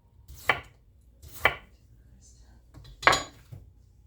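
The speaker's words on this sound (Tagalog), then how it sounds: "Hiwain lang natin ng manipis to" Three firm knife strokes thinly slicing raw potatoes for a baked potato scallop on a cutting board, spaced about a second apart, with a faint clink between them and no talk.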